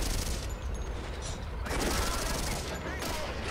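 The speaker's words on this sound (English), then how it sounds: "My hull-mounted machine gun is engaging." A tank's hull-mounted machine gun fires in the tank game Steel Fury, a steady, dense rattle of rapid shots that runs through the whole stretch over a constant low rumble.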